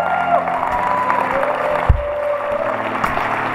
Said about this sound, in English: Give the college students a hand clap.